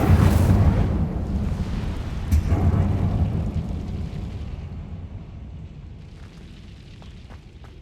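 The Incendio fire spell cast in the video game Hogwarts Legacy, a loud whooshing roar of flame that bursts at once, swells again briefly, then rumbles and fades over several seconds, ending in faint crackles.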